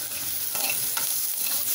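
Onion and grated coconut sautéing in a pan for spicy kozhukattai, a steady close sizzle with soft stirring scrapes recurring every half second or so, no voices.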